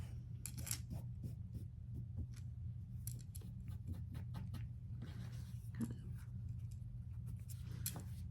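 Quiet, intermittent snips and rasps of a blade cutting fabric squares into triangles for a quilt block, soft scattered strokes over a low steady hum, with no talking.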